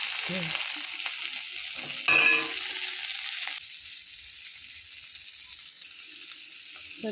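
Cumin tempering and boiled potatoes fry in hot oil with a steady, close hiss, and a brief louder burst of sizzle with stirring partway through.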